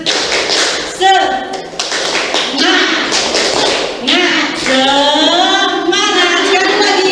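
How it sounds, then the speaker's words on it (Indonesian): A classroom of students performs the 'tepuk semangat' cheer, with rhythmic clapping and taps mixed into loud group chanting that runs through the whole stretch. "kita tepuk semangat dulu biar kalian kembali semangat"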